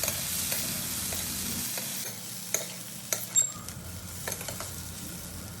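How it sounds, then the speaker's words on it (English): Okra masala (bhindi do pyaza) fries in a pan while a spoon stirs it, giving a sizzle and scraping with a few sharp clinks of utensil on metal. "We'll give a final mix."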